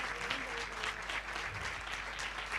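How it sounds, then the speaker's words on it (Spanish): An auditorium audience claps for a speaker at a lecture, a dense, steady patter of applause filling the whole moment with no talking. "Fuerte el aplauso para ella."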